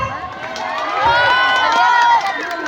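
Crowd cheering swells loudly at a school inter-class costume fashion show, a dense wash of shouting voices that peaks in the middle and stays strong to the end.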